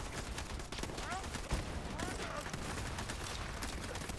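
Rapid gunfire from a weapon in the video game Borderlands 3, a dense, continuous volley of shots with a sharp burst near the middle, loud and busy throughout with game sounds layered in.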